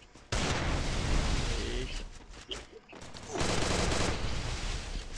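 Rapid gunfire bursts in a shooting video game, sustained and loud across most of the moment with a brief lull in the middle, while a player's voice comes through faintly.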